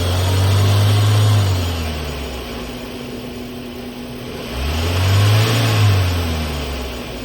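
Car engine in a lab setting with crankshaft and camshaft sensors being monitored, revved twice in close, loud surges that rise and then fall back toward idle between them.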